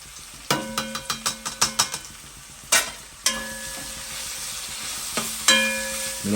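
A spoon stirs onions, lardons, garlic, chili and ginger frying for rougail graton, with a quick run of metallic taps against the pan followed by a few louder clanks over a steady close sizzle.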